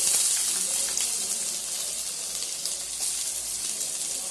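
Garlic and onion sauté in a pan while white pasta is being made, a soft steady sizzle and hiss close by with no speech over it.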